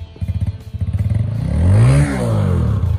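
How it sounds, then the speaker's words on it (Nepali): A motorcycle engine is revved hard on a cold, snowy day in Dolakha, Nepal, rising to a loud, sustained roar after a burst of clattery idling and holding steady near the listener. "टक्क लगाएर बाइक घुमाउँछ यसले"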